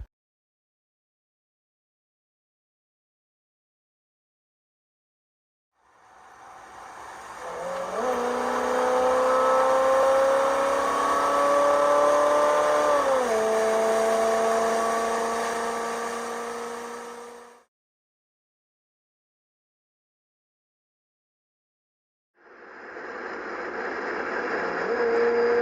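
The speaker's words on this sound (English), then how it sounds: "Let's take a listen to a few of these Ford V8s screaming." Classic Ford V8 big-block engines rev loudly, one long sustained climb in pitch that holds and dips before cutting off, followed after a pause by another rising rev, with no voices.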